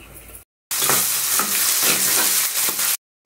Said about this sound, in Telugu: ఉల్లిపాయ ముక్కల్ని మరి కొంచెం సేపు వేగనివ్వండి